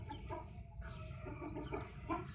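Small desi hen clucking softly in a farmyard, a few brief low clucks and murmurs spread across the moment, faint and fairly close, with no talking.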